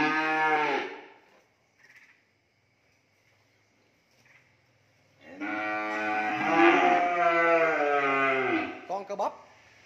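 Cattle on a cattle farm moo loudly and close by, one long low call at the start and a second longer drawn-out moo later, with brief faint sounds between.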